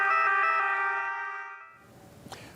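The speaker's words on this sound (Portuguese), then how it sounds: "Tocaram o hino italiano e ligaram as sirenes das viaturas para dizer obrigado" Italian police car sirens sound as a tribute to health workers, a steady, tonal wail that holds loud and then fades out, giving way to faint street noise and a brief sharp blip.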